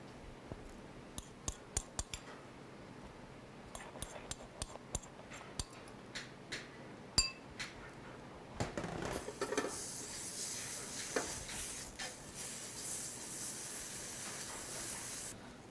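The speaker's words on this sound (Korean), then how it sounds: "여기에 멸치를 넣어서 볶아줍니다" Anchovies stir-fry in a lightly oiled pan, with scattered sharp utensil taps at first, then a steady sizzling hiss rising through the second half.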